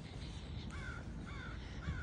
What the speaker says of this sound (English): this crow is playing with an acorn or something.